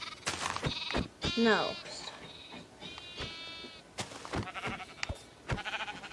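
Sheep in the Minecraft video game bleat several times, including a lamb and its mother. The short wavering cries are close and clear, with a person talking briefly between them.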